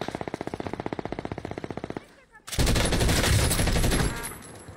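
Video game gunshots in a competitive shooter final: a steady run of evenly spaced automatic shots for two seconds, a brief pause, then a denser, louder volley of overlapping fire that fades near the end.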